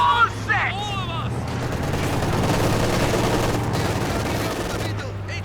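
Rapid MG34 machine gun bursts and other gunfire crackle through a Company of Heroes 2 battle, a dense, sustained barrage of war-game combat sounds lasting several seconds.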